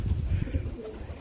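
Large flying pigeons kept shut inside a loft give a brief, low, throaty cooing, close by and murmuring, with no talking over it.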